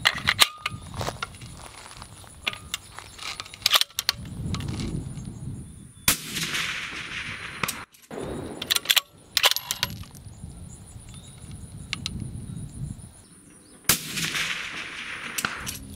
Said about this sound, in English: So we're going to go ahead and take our same 400 yard target shot again.